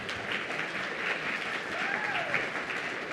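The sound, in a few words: audience applause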